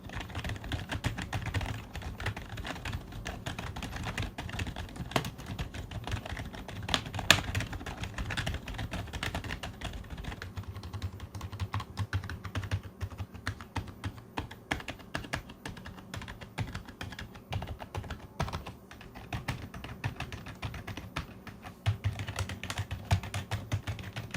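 Steady, continuous typing on a T-Dagger Torpedo T-TGK102 membrane gaming keyboard, its muted, fairly quiet keystrokes pattering at an even pace with no voices.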